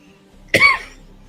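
A single close cough, short and sharp, bursting out alone in a quiet room, followed by a brief trailing breath.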